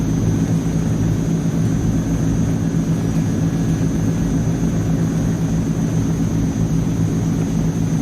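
AzurPoly C160 Transall twin-turboprop cargo plane climbing after takeoff in a flight simulator, a loud, constant droning engine roar with a steady low hum and a faint high whine.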